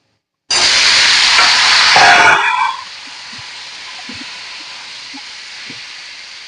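Onions hit hot oil in a pan for tangra fish curry with an abrupt, loud sizzle that lasts about two seconds. It then settles into a quieter crackle with a few faint clinks.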